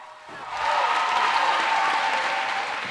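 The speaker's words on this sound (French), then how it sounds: "Guy Christ Israël, sous vos applaudissements" Audience applause at a Christian song competition final, starting after a short quiet moment and holding as a steady, dense wash of clapping through to the end.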